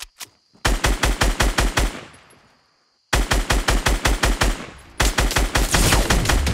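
A machine gun in Fortnite fires three rapid bursts, each a loud close run of evenly spaced shots, with brief echoing pauses between them and no talking.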